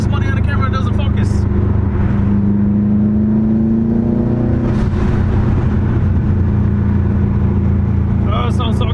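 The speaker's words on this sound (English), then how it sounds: "Let's go! Turbo noises!" A loud turbocharged 2007 Subaru STI engine with front-mount intercooler drones and revs up close, its pitch climbing and settling, with occasional whooshing blow-off valve hisses and a voice talking over it.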